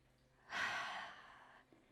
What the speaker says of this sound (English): Breathing out to reset.